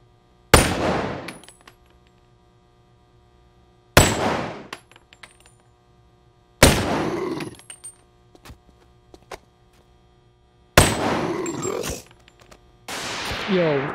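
Gunshots in the Boneworks VR video game: five loud, close blasts spaced a few seconds apart, each followed by clinking, ringing debris as it dies away.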